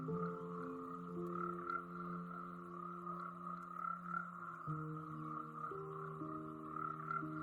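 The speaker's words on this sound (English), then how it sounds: "The varying calls of these frogs serve as communication, potential mates drawn to the unique sounds cutting through the rainforest din." Several frogs call together in a tropical rainforest, overlapping steady croaking trills layered over a constant insect-like drone, moderately distant and continuous with no talking.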